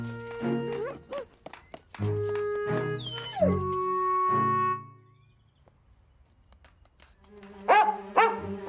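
A cartoon dog in an animated firefighter series barks and yelps in several loud, close bursts, then gives a howl-like call, with a quiet pause before more barking.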